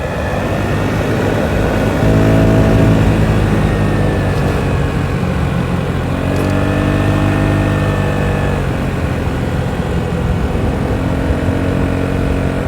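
Stella four-stroke automatic scooter engine revving steadily as the clutch engages, a loud, continuous, close-up drone that rises and falls in pitch a couple of times without any talk.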